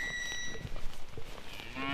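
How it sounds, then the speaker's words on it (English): A mob of about 200 Normandy cows in a paddock, with a few moos rising clearly from the herd at a moderate distance amid outdoor ambience. "Now over the fence are some of your lovely looking Normandy cows"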